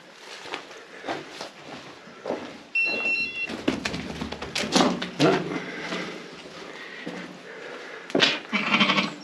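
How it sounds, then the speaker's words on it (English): A few sheep bleat at intervals in an open field in Devon, England, with rustling and footsteps in between and a brief high tonal squeak. "And we've got some sheep in here."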